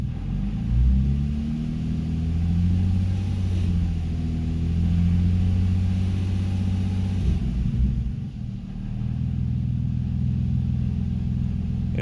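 A car engine revs under applied throttle while running lean, a loud steady rumble with rising and falling pitch that dips briefly before picking back up.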